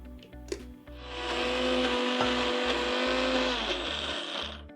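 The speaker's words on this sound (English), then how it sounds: "now we'll grind all these ingredients to a fine paste" An electric mixer grinder runs for a few seconds, grinding undhiyu ingredients into a fine green paste, with a loud steady whir after a brief start-up clatter, then spinning down.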